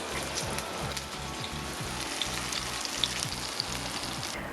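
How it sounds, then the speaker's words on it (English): Pea and carrot fritters fry in oil on a skillet, giving a steady, close crackling sizzle with small pops scattered throughout and no talk over it. "put half of them on the skillet with a little bit of oil"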